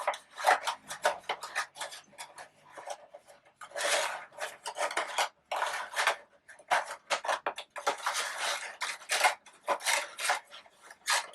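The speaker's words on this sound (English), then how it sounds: "with your wood dowel, you're going to push it in all the way" Repeated scraping, rasping rubs in short bursts as a wood dowel pushes a paper marigold center down into place, close and alone with brief pauses between strokes.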